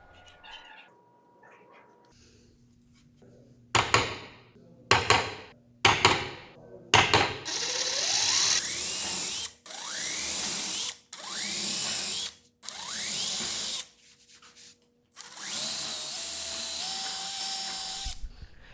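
A ratchet tightens bolts and nylock nuts on an arcade joystick for a DIY full-size arcade cabinet: several short clicking bursts, then longer rapid ratcheting runs with pauses between, close and fairly loud.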